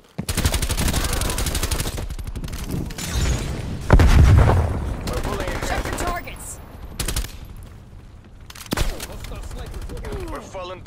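Call of Duty: Black Ops Cold War match on a Nuketown map, with rapid machine-gun bursts, a heavy flashbang boom and further gunfire, loud and close throughout, with brief game announcer voice lines.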